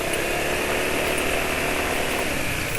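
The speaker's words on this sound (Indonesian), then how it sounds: "Suara mesin kasar ini" A motorbike engine runs rough after 92 km on Maxima oil, a loud, steady, buzzing drone close to the listener with a harsh, raspy edge and no talk over it.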